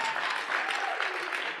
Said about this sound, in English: Insert clap there.